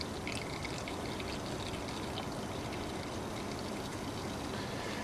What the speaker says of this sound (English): I tied off my bag on the handle there. Just to let it drain for a few minutes.